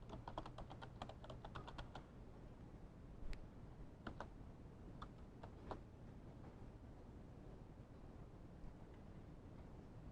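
A computer keyboard clicks in a quick burst of keystrokes, then a few scattered taps follow over faint steady room hum, quiet and close with no talking.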